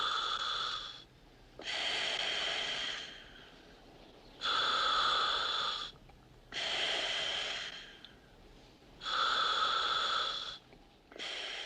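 Breathing heard from inside a diving suit: slow, loud, hissing inhales and exhales alternating in a steady rhythm, close and alone.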